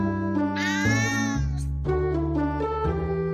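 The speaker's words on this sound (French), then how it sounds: "Un miaulement long indique que votre chat n'est pas content de vous voir." A cat meows loudly and close by, a long drawn-out cry shifting in pitch, followed by further wavering meows.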